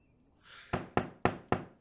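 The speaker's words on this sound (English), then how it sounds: "A sudden knocking at the door was enough to shatter the silence like glass" Someone knocks on a door five times in a steady rhythm. The close, sharp wooden raps follow a soft brushing rustle.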